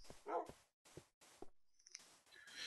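Short barks and yips from a tamed dog in Minecraft, several separate sharp calls spaced by brief pauses, fairly close but quiet, with a faint high whine near the end.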